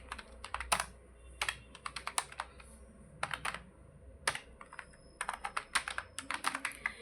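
Names are being typed into a Microsoft Word table on a computer keyboard, bursts of quick, close, crisp key clicks with short pauses between words, quiet and alone.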